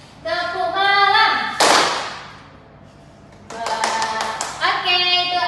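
A school class plays a clapping rhythm game as an ice breaker, with sharp bursts of hand claps between a teacher's spoken prompts, loud and close in a classroom.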